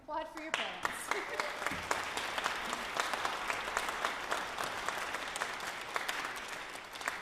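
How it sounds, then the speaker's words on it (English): An audience applauds the parents at a youth orchestra's fall concert, with steady crowd clapping building quickly and holding strong throughout, with scattered voices underneath. "everybody applaud for your parents"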